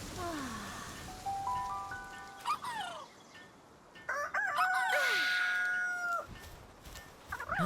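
Chickens in the Palworld video game cluck and crow with long drawn-out calls, several overlapping and fairly close, over a rain-like hiss, with no one speaking.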